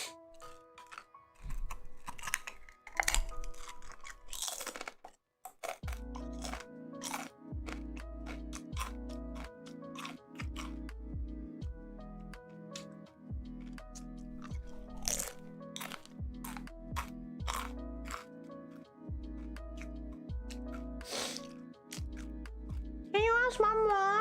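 A chip is crunched in a run of sharp, close bites and crackles, repeated over and over, with a low rhythmic pulsing underneath.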